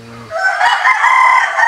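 A gamefowl broodcock rooster crows loudly and close, one sustained cock-a-doodle-doo with a rising, strained tone that holds to the end.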